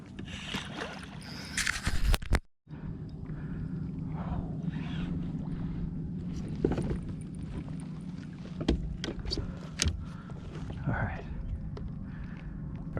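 A fishing kayak pulled through shallow water by a hooked redfish, with a steady rush of water against the hull and wind buffeting the microphone, broken by occasional knocks and splashes and a quiet voice now and then.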